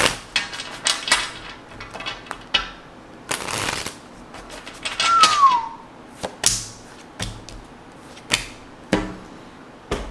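Tarot cards riffle and snap repeatedly in quick bursts, several separate shuffles close by, with a brief whistling tone in the middle and no talking.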